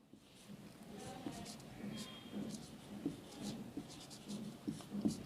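Marker or chalk writing on a board during an English grammar lesson, with faint, intermittent scratchy strokes and short taps in a quiet room, no speech over it.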